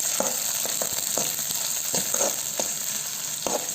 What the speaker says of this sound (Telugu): దానికి 1/2 స్పూన్ వరకు ఆవాలు, 1 ఆనియన్ వేసి వేయించుకుందాం.